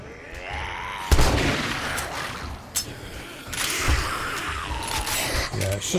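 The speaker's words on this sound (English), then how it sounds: "Try the shotgun." A shotgun fires in a zombie survival game, one heavy close blast followed by a few more booming shots and mechanical reload clicks, with people talking throughout.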